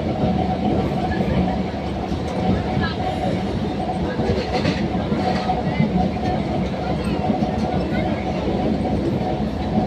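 A passenger train rolling along a line in Murshidabad, West Bengal, heard from inside a carriage: a steady, loud rumble and rattle runs the whole time with no breaks.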